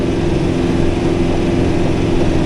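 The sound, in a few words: brush hog mower running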